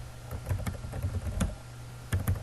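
Clicky computer keyboard typing in quick irregular bursts, keys tapped close by with short pauses between runs of strokes.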